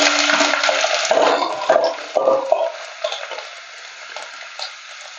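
Loud crackling sizzle as garlic cloves and ginger hit hot oil, gradually calming into softer scattered pops and spits.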